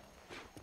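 Horse hooves clip-clopping on a dirt street in the Western game Red Dead Redemption, a short run of soft, close steps with a couple of sharper hoof strikes near the end, alone without talk.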